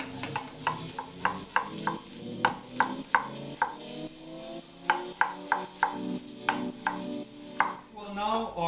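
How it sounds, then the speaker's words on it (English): A knife chops tomatoes on a cutting board in a run of sharp, close, evenly spaced strikes, broken by a brief pause and then a second steady burst of cuts. "now our tomatoes are chopped and ready"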